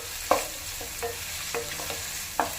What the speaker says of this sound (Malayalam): നമുക്ക് ഈ സ്പൈസസ് എല്ലാം അതായത് bay leaf, cinnamon stick, Kadmat, ഗ്രാമ്പു നല്ലപോലെ സോട്ട് ചെയ്യുക